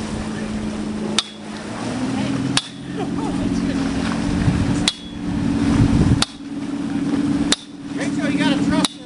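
A sledgehammer strikes outdoors in sharp, loud, evenly spaced metallic impacts, about six in nine seconds, over steady engine-like background rumble and some talk.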